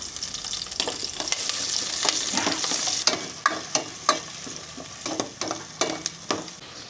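Onions and garlic sauté in a hot pan, a steady sizzle with repeated scraping and stirring strokes of a utensil against the pan, close and fairly quiet, with no talking.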